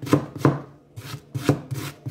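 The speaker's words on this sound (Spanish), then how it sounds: "Voy a comenzar a picar el repollo." Knife chopping cabbage on a board for pupusas, a few close, crisp cuts in an uneven rhythm, each a short thud with a light crunch.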